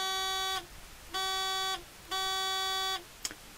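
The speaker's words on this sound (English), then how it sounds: "yeah, quite a buzzer, or almost a honking sound." Three loud, steady electronic buzzing tones from the continuity tester of an AVO Model 1001 analog multimeter, each lasting about half a second to a second, with short silent gaps between them.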